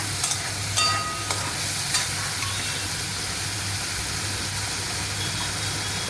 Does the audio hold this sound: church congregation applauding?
no